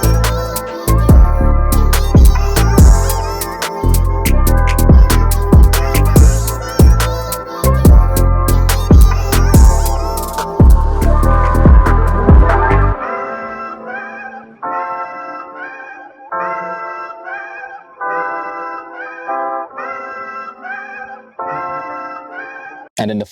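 A beat mixes garage bass with drill percussion: heavy pulsing bass and hits drive the first half, then the low end drops out, leaving punchy melodic stabs in a choppy rhythm.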